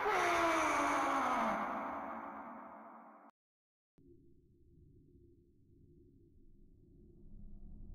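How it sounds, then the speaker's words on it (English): Cry of a mermaid in a horror video game, heard as a loud, eerie, descending wailing sweep with echo that cuts off abruptly, followed by brief silence and a low, faint ambient drone. "that was the cry of the mermaid"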